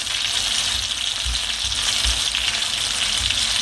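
Peppers and onions charring on a grill beside köfte meatballs: a dense, loud, continuous sizzling hiss with low thumps underneath, steady throughout and free of talk.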